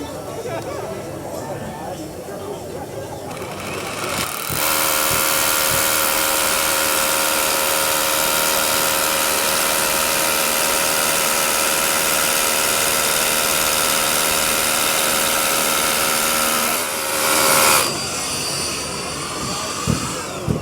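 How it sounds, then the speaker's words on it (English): A Bosch SDS Plus rotary hammer drills into concrete, a loud, steady hammering drone that starts abruptly and runs for about twelve seconds before cutting off, with quieter talk and handling noise before and after. "This is going to pound through the concrete like it's nobody's business."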